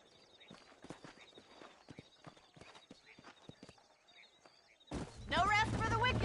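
Horses clip-clop at a steady walking rhythm in the Western video game Red Dead Redemption, hooves close and moderately loud, then a burst of dense noise and a voice take over near the end.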